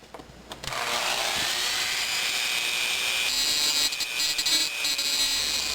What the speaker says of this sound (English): I'm going to use my Dremel tool and thin out this plastic right over here.